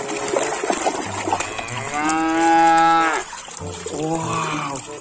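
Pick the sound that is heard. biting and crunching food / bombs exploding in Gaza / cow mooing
cow mooing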